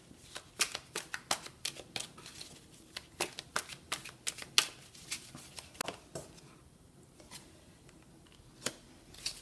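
Tarot cards are shuffled up close, producing a quick series of sharp riffling snaps and soft slaps at an uneven rhythm, with no talking over them.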